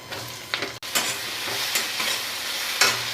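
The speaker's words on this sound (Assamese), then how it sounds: "জিৰা দিছোঁ, গোটা জিৰা হৈ গৈছে। এতিয়া মই এই গোটেইখিনি ইয়াতে দি দিম।" Whole cumin seeds, turmeric and other ingredients frying in hot oil in a pan, a steady close sizzle with a few scraping stirs and a brief clatter, no voices.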